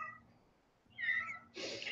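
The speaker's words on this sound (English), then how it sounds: "Oh, cats." A house cat meows twice indoors during a live stream, a short call followed by a longer one, both fairly faint against a quiet room background.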